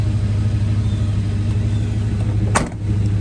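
A 1987 Chevrolet R10 pickup with a fuel-injected 5.7L V8 idles steadily with a deep, continuous rumble, close and loud, with a brief dip in the drone near the end.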